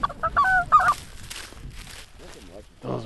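White-fronted geese, called speckled bellies, give a quick burst of loud, close, high honking calls at the start during a hunt, followed by hushed voices and a short bit of talk at the end.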